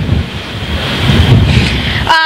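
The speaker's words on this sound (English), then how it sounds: "You're feeling some major gusts right now" Strong wind gusts buffet an outdoor microphone during Hurricane Irma's record storm surge in downtown Jacksonville, Florida, a continuous loud roar with rushing low-frequency rumble that swells midway, then cuts off abruptly at the end.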